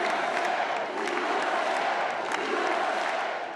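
Crowd at a Trump election-night watch party, a continuous wash of cheering and shouting with scattered whoops, loud and sustained, no individual voices standing out.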